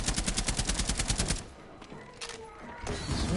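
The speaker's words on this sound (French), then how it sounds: "Ça tire là-bas." In the video game Rainbow Six Siege, a rapid burst of automatic gunfire rattles loudly for over a second, then quieter game ambience follows with a faint distant shot or two.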